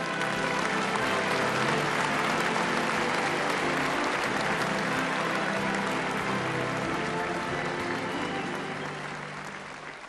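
At the Miss World 1976 pageant, a large audience keeps up dense, steady applause that fills the hall, then gradually fades toward the end.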